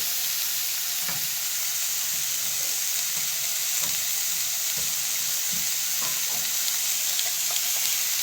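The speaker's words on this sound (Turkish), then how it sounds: "Birazcık ben mantının içini iç harcını soteleyeceğim" Finely chopped onions sizzle steadily in a pan with a little oil as the filling for Uzbek-style manti is sautéed, with occasional soft stirring knocks and no talking.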